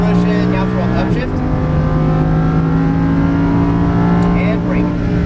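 A Lamborghini Huracan LP610-4 engine revs hard and climbs in pitch as it accelerates, loud and close, with a brief dip like a gear change.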